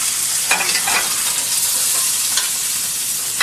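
Butter melts in a hot pan with a loud, even sizzle and light crackling pops, close up with no talk.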